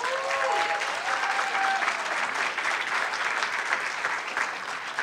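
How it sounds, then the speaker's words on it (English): Audience applause for Jay Travis at a public forum on neighborhood and charter schools, a steady, dense clapping that holds at full strength throughout with a faint tonal whistle near the start. "Round of applause for Jay Travis."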